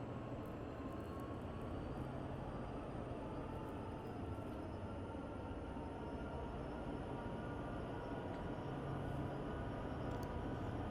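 A freight train hauling boxcars on the Sherman Hill route in Train Sim World 2 gives a continuous heavy rumble and roar, steady and fairly loud throughout, with no talking.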